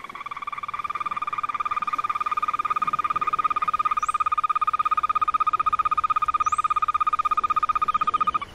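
A frog or other amphibian calls in a rapid, continuous pulsing trill, loud and near, holding steady for several seconds before stopping abruptly, with faint chirps in the background.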